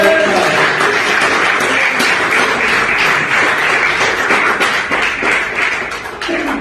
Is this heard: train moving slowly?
no